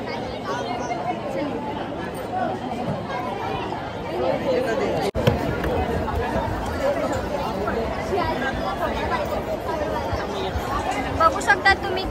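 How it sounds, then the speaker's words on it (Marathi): A large crowd waits in a Mumbai queue for Lalbaugcha Raja darshan, producing a steady, dense babble of many voices. Nearby speech and shuffling movement run throughout at moderate loudness. "बघू शकता तुम्ही किती जास्त गर्दी आहे"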